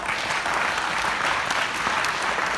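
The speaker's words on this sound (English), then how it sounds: "She deserves a tremendous round of applause." A lecture audience claps in a hall, giving a warm round of applause that stays dense and even for a couple of seconds, close and loud, with no voices over it.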